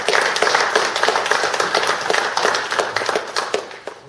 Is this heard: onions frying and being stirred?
no